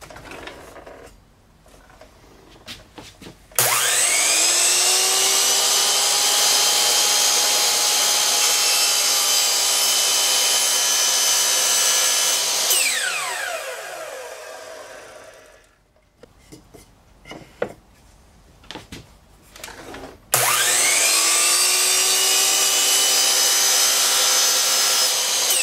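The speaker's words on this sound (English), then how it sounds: "we're going to go over to the miter saw, set up a stop block, and cut both ends" A miter saw set up with a stop block cuts through wood twice: each time the motor spins up to a loud, steady whine, bites through the board, then winds down, with quieter handling clatter between the cuts.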